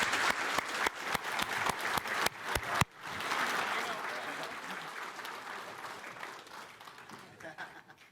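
A mining health and safety conference audience claps for panelists: several loud, distinct claps up front, then a full burst of sustained applause that gradually fades, with a voice speaking briefly.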